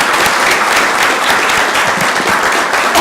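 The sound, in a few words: audience applause at city council meeting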